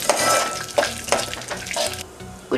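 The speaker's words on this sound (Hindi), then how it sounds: "5 से 7 पिस्ते हैं। इसे 10 से 15 सेकेंड सॉटे करेंगे" Five to seven pistachios sautéing in a small pan for a sweet rice dish, with a soft sizzle under repeated stirring scrapes and clicks coming in quick regular strokes, close and fairly loud.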